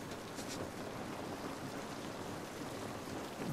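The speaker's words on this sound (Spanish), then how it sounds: "Esta lluvia no nos va a ayudar." Steady, dense rain hiss in The Last of Us Part I remake on PS5 fills the scene without pause, with faint low rumbles underneath and no voices.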